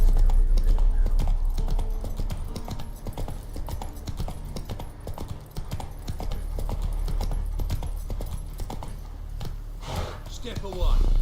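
Hooves of Roach, the horse in The Witcher 3: Wild Hunt, clip-clop in a steady rhythm throughout, loud and close, with a brief snort or whinny near the end and voices speaking over it.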